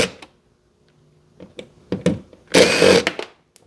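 Screws come out of a trim piece on a C7 Audi A6, with a few short clicks and scrapes, then a brief burst of a small power driver whirring, all close.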